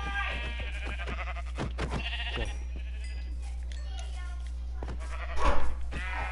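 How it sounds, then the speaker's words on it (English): A sheep in a survival video game bleats in short wavering calls over a steady low hum, with a louder cluster near the end, while a person talks throughout. "I just two-shot the sheep."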